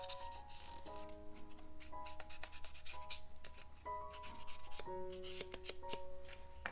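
An ink blending tool rubs across paper edges on a faux envelope pocket: soft, close, brisk scrubbing strokes that come in short repeated passes over quiet background music.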